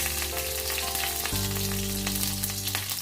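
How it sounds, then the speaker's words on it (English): Kalonji nigella seeds sizzle in a tablespoon of hot mustard oil for a tadka, a loud, continuous close frying hiss with faint crackles and a low hum underneath, no talking. "Now I am making the tadka. 1 tablespoon mustard oil, pinch of kalonji, Nigella seeds"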